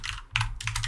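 Quick keystrokes on a computer keyboard, typing a command at a UNIX server prompt; a few close, crisp clicks in short bursts, with no speech.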